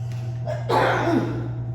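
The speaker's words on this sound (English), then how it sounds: "Sorry, sneeze in a cough at the same time." A single sneeze and cough burst out together at close range during an indoor wine tasting, a sharp explosive onset that trails into a rough, breathy tail over a low steady hum.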